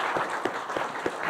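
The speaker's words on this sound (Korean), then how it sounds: "차렷 인사할 때 우리 힘찬 격려의 박수 하겠습니다." A church congregation applauds during a Sunday morning service, a steady wash of many hands clapping with a few distinct claps standing out, moderately loud and without talk.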